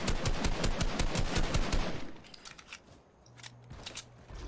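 Rapid automatic gunfire in an online shooter game rattles in a fast, loud burst, then thins to scattered, more distant shots.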